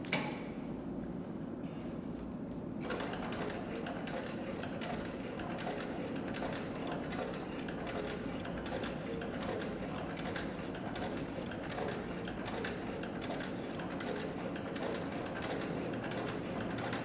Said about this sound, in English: So the Cowboy CB3200 can also sew lighter weight materials, and so we're going to demonstrate that on 3 layers of approximately 3 ounce tooling leather